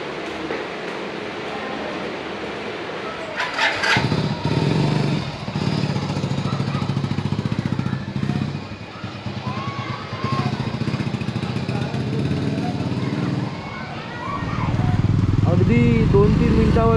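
A motorcycle rides along the Konkan coast near Kihim Beach, its engine droning steadily and close, with a brief gap in the middle before it swells louder near the end while a rider's voice talks over it.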